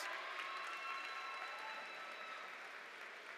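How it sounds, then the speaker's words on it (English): At a 2021 spring university commencement, a large crowd applauds faintly and from a distance, a soft, steady wash of clapping that holds evenly throughout. "Give them a hand clap,"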